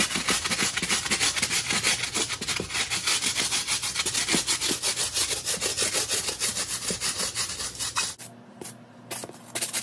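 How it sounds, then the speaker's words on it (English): A stiff bristle brush scrubs the outsole of a Yeezy Boost 700 sneaker in quick, steady back-and-forth strokes, close and loud, before stopping abruptly near the end. "Now we're gonna clean the outsole with the stiff bristle brush"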